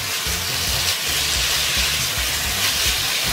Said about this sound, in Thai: ผัดให้พริกหอมก่อนนะฮะ